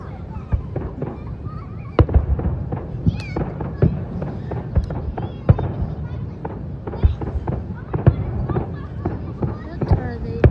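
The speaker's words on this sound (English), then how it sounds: "they're just throwing out all the fireworks" Fireworks at the Traverse City Cherry Festival burst in a dense, rapid barrage of sharp cracks and booms across a finale-like stretch. People talk and react in the background.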